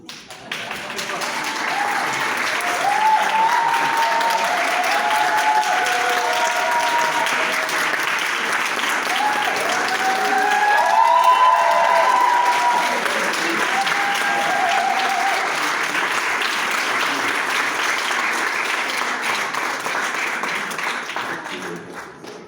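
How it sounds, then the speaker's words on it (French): Sustained crowd applause at a wedding in Neuilly, Paris, greeting the arriving bride and groom, a steady dense clatter of many hands rising mid-way, with a few voices calling out over it. "Ah, on applaudit."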